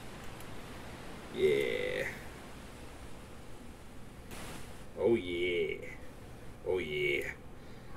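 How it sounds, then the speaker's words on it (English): A relaxing white-noise recording of ocean waves plays as a steady, soft hiss in the background while people talk briefly over it. "The ocean waves in the background and that sound."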